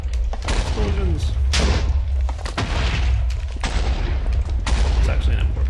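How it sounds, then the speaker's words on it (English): Repeated explosions in the game Minecraft during a modded Skyblock void-mining session, loud booming blasts one after another with deep rumbling low end and crackling debris, nearly continuous throughout. "Explosions."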